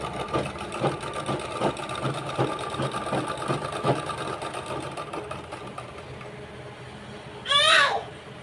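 A pico-fall sewing machine stitches at a steady rapid pace, a close mechanical whirring with regular clicking pulses that stops near the end, followed by a brief rising whine.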